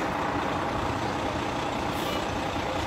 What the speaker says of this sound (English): that engine's so loud over there